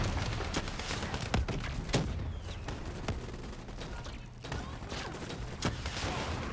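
Gunfire in the Call of Duty: Black Ops 3 campaign mission Rise & Fall, a dense run of sharp shots with several louder cracks spread through a steady roar of game noise.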